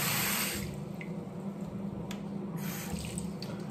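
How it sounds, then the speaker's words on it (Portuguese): Tap water runs steadily into a sink as a face is rinsed, a close continuous rushing with faint splashes and a few small drips breaking through. "Agora vou enxaguar a cara para limpar esta porcaria"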